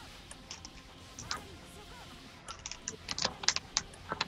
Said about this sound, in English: This is not the time for my keyboard button to be sticking.